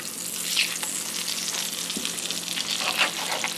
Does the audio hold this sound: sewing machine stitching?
no